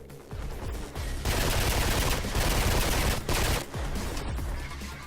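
Rapid handgun gunfire from the first-person action game Mirror's Edge, a dense run of loud sharp shots with a short pause near the middle before firing resumes.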